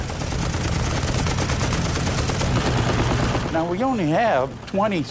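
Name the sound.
aircraft machine gun fire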